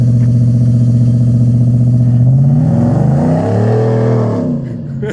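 A Roush F150 pickup truck's exhaust revving, heard from outside the truck: a loud, deep, steady engine drone climbs in pitch, wavers and settles back down.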